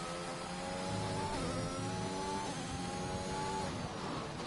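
Race car engine in the F1 2021 video game during a lap at the Italian Grand Prix, Monza, a steady high-pitched droning whine that holds loud and continuous throughout with small pitch shifts as the car slides on corner exit.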